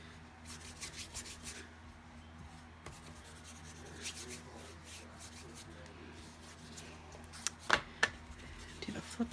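Hand rubbing sealant into the surface of a case, a soft continuous scuffing with scattered brief taps and a couple of sharper clicks near the end, fairly quiet and close.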